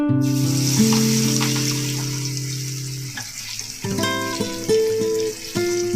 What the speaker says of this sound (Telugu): ఇప్పుడు మనం వడలు వేసుకుందాం ఇలా డీ ఫ్రైక్ సరిపడా ఆయిల్ పెట్టుకుందాం